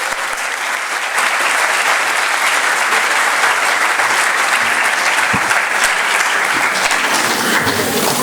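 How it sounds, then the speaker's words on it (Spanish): An auditorium audience applauds to welcome a speaker at an engineering institute lecture on earthquakes in Mexico City, a loud, dense, unbroken wash of clapping lasting throughout. "Recibámoslo con un aplauso."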